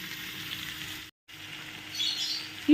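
Mixed winter vegetables and onions fry in a hot pan for a fish bhuna chili, a soft continuous sizzle that briefly cuts out, then resumes with light crackles.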